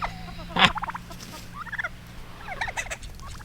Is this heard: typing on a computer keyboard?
no